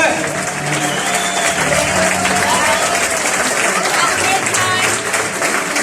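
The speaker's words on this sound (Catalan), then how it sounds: "I l'últim aplaudiment per mi" An audience at a medieval fair in Ripoll claps enthusiastically after a knights' combat show, a dense sustained wave of applause that continues steadily throughout.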